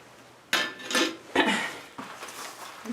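A metal lid is pried off a paint can, giving a few sharp metallic clanks and scrapes close up in a quiet room, with no one talking.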